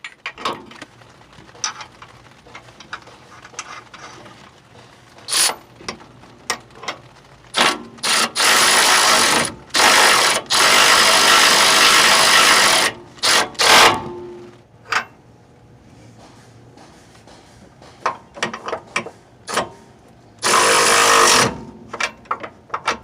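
Someone runs the 21mm nuts down on the upper control arm of a 2002-2005 Mercury Mountaineer. Close bursts of mechanical clicking alternate with several long, loud stretches of tool noise, and no one speaks.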